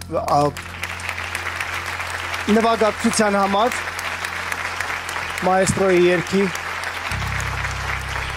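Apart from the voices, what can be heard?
audience applause for accompanist Karen Ananyan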